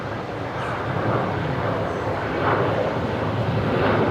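A Qantas airliner lands on runway 01 right at Brisbane Airport, a steady broad jet roar held at a fairly loud, even level with a slight swell toward the end and no clear speech.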